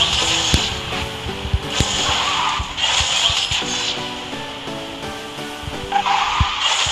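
Cars drifting and skidding in the racing video game Garena Speed Drifters, with steady engine drone and repeated tire squeals swelling and fading through the run alongside game music.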